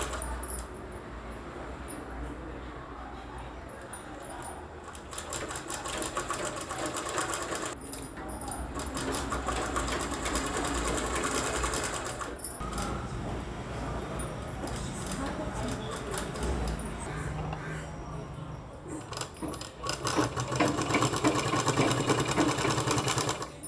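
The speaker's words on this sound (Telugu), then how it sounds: "ఇలాగే ఈ చివరి నుంచి ఆ చివరి వరకు అలాగే కుట్టుకోవాలి." A sewing machine stitching cloth from one end to the other, running as a steady, loud mechanical whirr for most of the span with a couple of brief stops and restarts, close to the listener.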